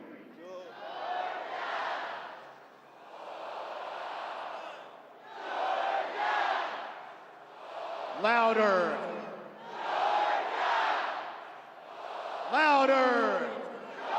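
Stadium crowd at Sanford Stadium for a Georgia football national championship celebration, two sides of the stands trading the Georgia Bulldogs cheer in loud alternating roaring chants, with a voice over the speakers urging them on between bursts.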